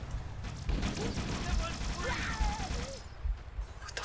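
Gunfire from the video game Halo CE keeps up steadily, rapid bursts mixed with game effects while a player's voice talks over it.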